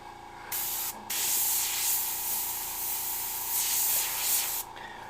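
An airbrush sprays thinned paint in a steady, close hiss that starts after half a second, pauses briefly, then runs continuously before stopping near the end, with no talking.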